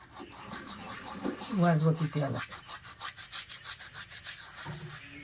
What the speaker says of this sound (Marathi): तो आपल्याला हातावरती अशा पद्धतीने चोळून घ्यायचा आहे आणि ह्या मैद्यामध्ये घालून घ्यायचा आहे